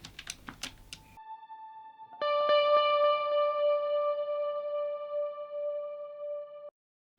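A guitar part treated with mono delay, light reverb and a filter rings out as a sustained, layered chord with repeating echoes that decays and cuts off, after a few short percussive taps.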